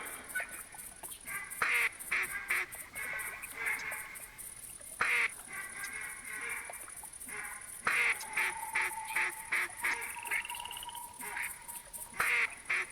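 Wild ducks in a bayou quacking repeatedly, bursts of calls scattered across the stretch with some sharper nearer honks among fainter distant ones, no talk.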